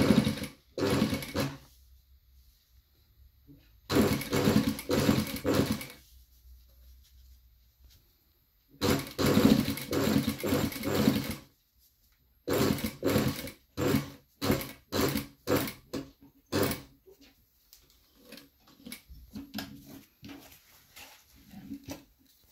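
Sewing machine stitching a zipped pocket, running in several distinct bursts of a few seconds each with short pauses between, loud and close, with a quicker run of short stitching spurts near the end.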